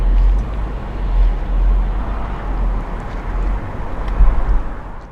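A Toyota Land Cruiser Prado creeping over drops in low range gives a continuous deep engine rumble with low thumps and swells, close and fairly loud, with no talking.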